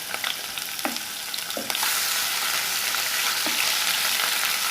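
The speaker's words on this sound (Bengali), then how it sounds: "এখন জাস্ট একটু পেঁয়াজগুলো ভাজার জন্য আর মশলাগুলো ভাজার জন্য আদা রসুন পেস্ট একসাথে দিয়ে দিলাম" Onions and ginger garlic paste frying in oil, with a few stirring scrapes at first, then a dense, steady sizzle that grows louder.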